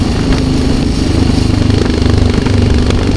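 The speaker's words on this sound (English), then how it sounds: "I like the plops when it's backfiring." Yamaha XT660R single-cylinder motorcycle idling close and loud with a steady thumping pulse, with occasional popping backfire plops in the rumble.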